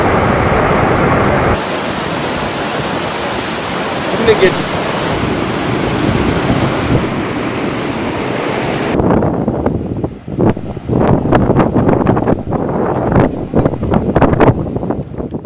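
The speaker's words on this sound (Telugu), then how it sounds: "భారీ వర్షాలతో మానేరు వాగు ఉగ్రరూపం దాల్చింది రాజన్న సిరిసిల్ల జిల్లాలో వాగు ఉధృతంగా ప్రవహిస్తుంది" The Maneru stream in Rajanna Sircilla district rushing in flood after heavy rain, a loud, dense roar of churning water heard up close and continuously, with wind buffeting the microphone in the latter half.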